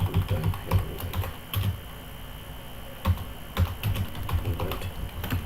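Rapid typing on a computer keyboard while editing Bootstrap 4 code, with clustered bursts of crisp key clicks, a brief pause near the middle, then more quick bursts, moderately close and alone.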